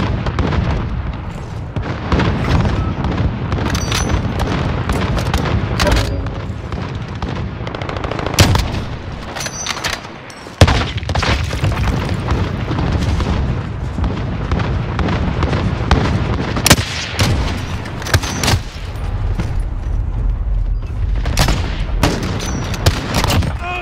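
Near-constant gunfire in a Call of Duty Modern Warfare multiplayer match, dense rapid bursts with sharp louder cracks and booms scattered throughout, loud and close with almost no voice.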